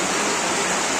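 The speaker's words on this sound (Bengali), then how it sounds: "প্রচুর জোরে বৃষ্টি হচ্ছে, প্রচুর জোর।" Heavy rain pours down steadily outdoors on a road, a dense, loud, unbroken hiss filling the short moment with no voices.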